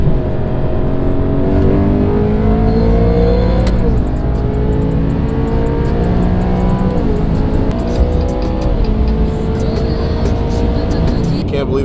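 A supercharged BMW E92 M3 accelerates hard through several gear changes, with the engine and supercharger whine climbing steadily in a loud, continuous drone heard from inside the car.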